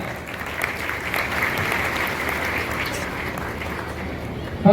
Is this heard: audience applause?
yes